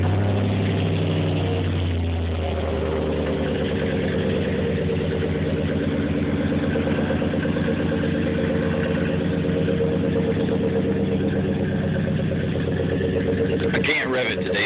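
A 2002 Chevy Silverado 4x4 with a 5.3 V8 idles right after its first startup of the day, a steady, close, loud engine drone that stays constant throughout, with a brief clatter near the end.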